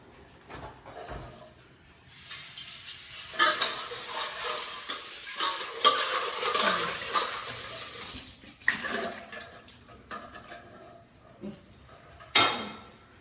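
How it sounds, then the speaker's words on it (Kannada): Chicken fries in oil in a home kitchen pan while being stirred, a continuous hissing sizzle swelling and fading with scraping movements, interrupted by a few sharper clatters near the end. "ಎರಡನ್ನೂ ಚೆನ್ನಾಗಿ ಫ್ರೈ ಮಾಡಿ"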